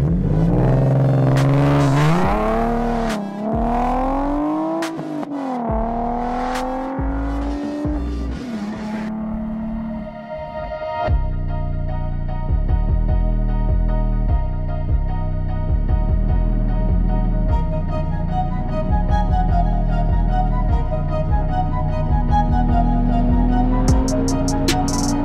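A car on new Continental SportContact 7 tyres is heard on a narrow country lane, at first revving and shifting through gears with rising engine pitch, then settling into a steadier cruising drone with road noise inside the cabin.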